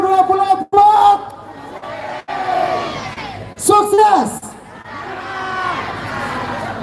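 Outdoor crowd at a live event in Soppeng shouting and cheering in unison from a truck-side gathering, loud bursts of massed voices with whoops, mixed with an amplified announcer's voice.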